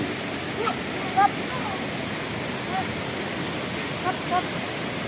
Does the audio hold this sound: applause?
no